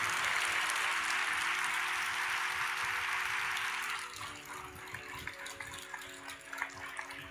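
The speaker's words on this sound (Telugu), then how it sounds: "ఈ కృపనిచ్చిన దేవునికి గట్టిగా చప్పట్లు కొట్టి మహిమ చెల్లిద్దాం" A church congregation claps loudly together, with dense, sustained applause for about four seconds before it drops to scattered quieter claps and room noise.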